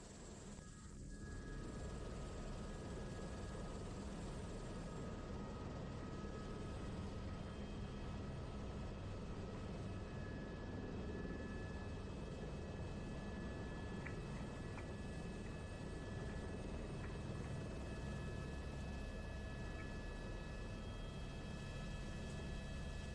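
A steady, broadband rotor and turbine drone from a simulated helicopter (an H135 or H130 in a flight simulator) taking off fills the whole stretch continuously and evenly, with no speech audible over it.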